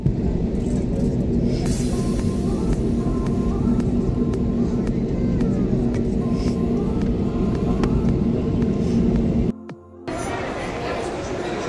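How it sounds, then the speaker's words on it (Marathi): Ambience at Suvarnabhumi Airport in Bangkok after landing, with a steady, loud rumble of aircraft and vehicles and the chatter of a crowd throughout, briefly cut out near the end. "बँकॉक एअरपोर्टला सुवर्णभूमी विमानतळावर उतरले आहोत."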